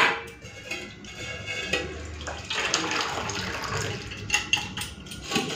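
Boiled lentils (dal) poured from a pot, with a splashing, gurgling liquid sound and clinks of metal cookware, fairly close and continuous for several seconds without talk.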